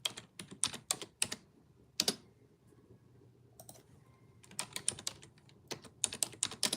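Quiet computer keyboard typing in bursts of rapid clicking keystrokes, pausing briefly midway before resuming, with no one speaking.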